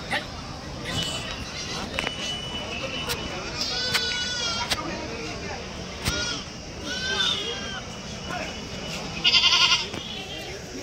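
Several goats bleat repeatedly, some near and some farther off, amid a busy crowd of people talking at a livestock market in Kadiri before Bakrid.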